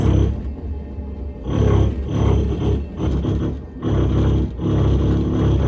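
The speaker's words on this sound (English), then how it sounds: "They're drilling through the outside" A loud, grinding drill bores through a house's exterior wall for a radon mitigation system, rising and falling in long bursts with brief dips between them, steady and close without any talking.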